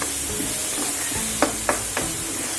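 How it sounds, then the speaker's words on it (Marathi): Onion sautéing in a pan until soft, a steady sizzle with three brief spatula taps and stirs, close and alone without speech. "आपण कांदा चांगला परतून मऊ पडला"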